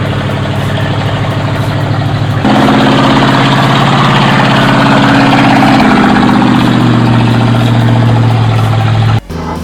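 A ZIL truck's heavy diesel engine churns through a meter-deep ditch, a steady close rumble that surges louder after a couple of seconds, holds under strain, then cuts sharply near the end.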